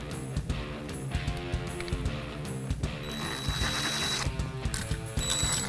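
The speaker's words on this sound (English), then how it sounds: "So this is the screw you're gonna drive through." A screw is driven through a board with a ratcheting hand tool, rapid close clicking and mechanical rattling in uneven bursts that grows steadier toward the end.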